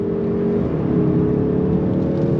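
A 2024 Mazda 3 Turbo pulling hard on throttle in manual mode, heard from inside as a steady, loud engine drone with a sustained whirring tone that holds through the whole stretch.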